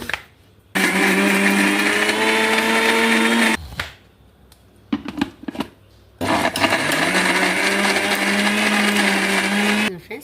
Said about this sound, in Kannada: ಒಂದು ಸಲ ಮಿಕ್ಸಿಗೆ ಮಾಡ್ಕೊಂಬ